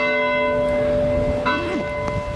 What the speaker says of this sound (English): With the church bells ringing right behind us.